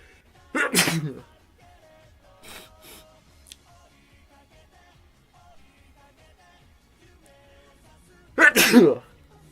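Two loud sneezes, one near the start and one near the end, separated by quiet with faint background sounds.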